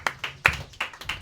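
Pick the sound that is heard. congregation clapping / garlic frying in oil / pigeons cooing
congregation clapping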